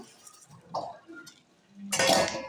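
A spoon stirs sugar into milk reduced for kheer, making faint scrapes and light clinks against the pot, then a louder rush of sizzling or scraping at the end.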